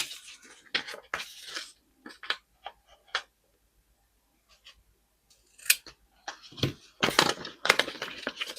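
Scissors snipping through a planner sticker sheet, a scattered run of close, sharp cuts and clicks with pauses between, alone with no talk.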